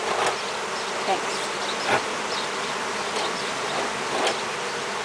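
A honey bee swarm hums steadily around a hive set out to capture it, a dense continuous buzz with individual bees whizzing past the microphone now and then.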